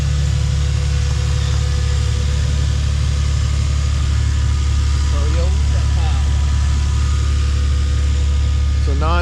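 A non-turbo 2JZ engine idles in a Lexus, a steady, loud low rumble that holds even throughout while people talk nearby over the drone.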